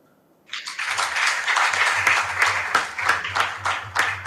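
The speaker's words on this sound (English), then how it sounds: "Clap for them." An audience at a school quiz contest between junior high schools bursts into applause after near silence, the clapping loud and close, with uneven pulses of individual hands over a steady roar.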